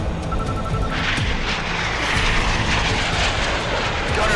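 Roaring fighter jet engine in a military thriller air combat scene, a loud continuous rushing drone with bursts of gunfire-like crackle throughout.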